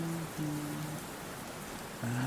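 Continuous rain patter sits in the background of a song, broken by short sustained low tones that come and go over a steady wash of rainfall.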